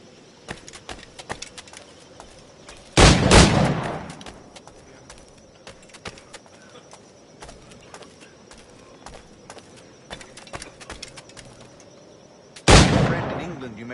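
Two loud, sharp firearm blasts from an Assassin's Creed game ring out several seconds apart, each trailing off into a brief echo, over a busy background of clip-clopping hooves and scattered ambient noise.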